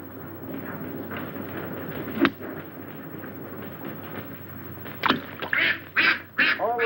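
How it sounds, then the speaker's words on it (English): Outdoor murmur gives way to a run of sharp, nearby duck quacks in quick succession near the end, preceded by a single loud click. "Those ducks are throwing me off."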